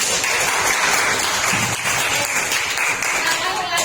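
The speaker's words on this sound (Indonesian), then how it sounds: "Tepuk tangan." Audience applause after a correct answer in an Indonesian Islamic quiz session, a dense continuous burst of clapping held at steady volume throughout.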